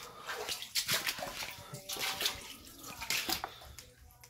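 Water sloshing and splashing in a flooded basement with ankle-deep water, in uneven surges of wading and churning, close by and moderately loud, with no voices.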